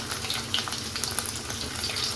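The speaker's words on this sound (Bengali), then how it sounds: "আলুটা ভাজার জন্য এখানে আমি সাদা তেল ব্যবহার করলাম দিয়ে দিচ্ছি আলুটা" Potatoes frying in hot white oil, giving a steady, dense sizzle that keeps going without a break for the whole stretch, close and alone with no voices.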